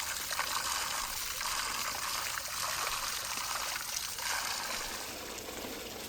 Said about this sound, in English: I'm washing our vegetables that will be used as filling for our future dish